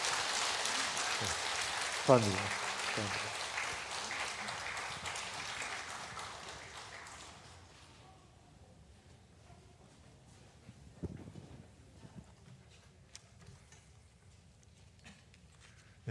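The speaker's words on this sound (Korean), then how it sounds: "박수로 우리 축하해 주겠습니다" A congregation at a Korean church Sunday service claps in a warm, sustained round of applause that carries on for several seconds and then fades into a quiet room, with scattered knocks and a brief spoken word afterward.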